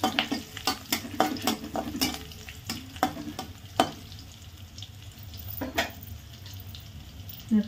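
Garlic and cumin roast in a hot pan for a ridge gourd vegetable dish: soft sizzling under a run of sharp stirring scrapes and clicks, busy at first and thinning toward the end.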